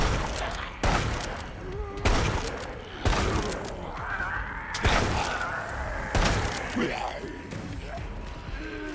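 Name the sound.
minigun firing in video game Resident Evil Resistance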